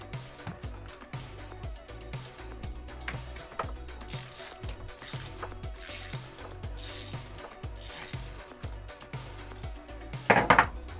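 Wrench ratcheting as it tightens a battery terminal connection, a close series of quick metallic clicks in irregular bursts with some light clanking of metal parts, fairly quiet, no talking.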